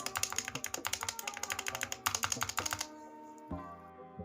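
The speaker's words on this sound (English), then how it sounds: "This is the before typing test on the unlubed." Rapid keyboard typing on unlubed stabilizers with sharp clacky keystrokes in quick bursts, briefly pausing, then a few final taps near the end; close and clear.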